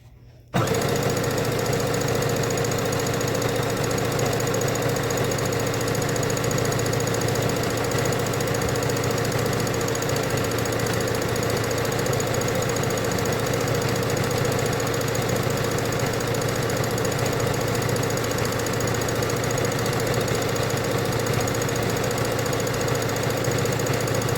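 A sewing machine runs continuously while sewing fabric gift bags, a steady, loud mechanical whirring with rapid rhythmic knocking that starts abruptly after a brief quiet moment.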